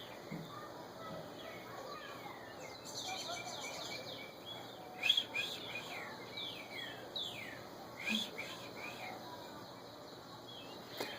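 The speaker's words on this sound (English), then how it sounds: "I think the birds are happy. Yeah, they're chirping." Small birds chirp and tweet outdoors in short overlapping calls, moderately near, amid a steady hiss of ambient noise, with a few louder calls standing out.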